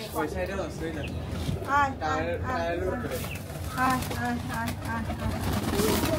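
Pigeons coo softly in repeated throaty phrases, layered under people talking nearby with steady background noise.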